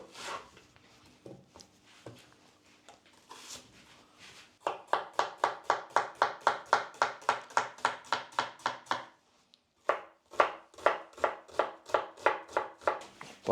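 Onion being chopped with a knife on a board for an oyster mushroom goulash, a few scattered cuts first, then a long run of fast, even, close-up knife strokes, a brief pause, and another steady burst of chopping.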